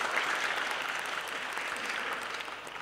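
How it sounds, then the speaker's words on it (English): Steady, dense applause from a live audience at an audio-industry event, a continuous wash of many hands clapping at moderate volume that holds evenly and tapers slightly at the end. "Can you guys give a big round of applause to iZotope,"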